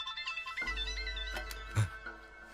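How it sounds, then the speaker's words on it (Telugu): An incoming-call phone ringtone plays a short, bright electronic melody in a drama scene, heard clearly on its own with no talking. "నేను చెప్పాను కదా సీను గారు ఫోన్ చేస్తాడని"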